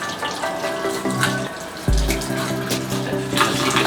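Tap water runs steadily over sidaguri herb roots as they are rinsed clean, a close splashing flow with small knocks and handling noises and no speech.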